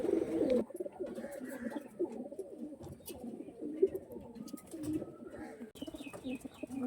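Several flying pigeons offered for sale coo in overlapping, rolling phrases close by, with a few short chirps and clicks over the steady murmur.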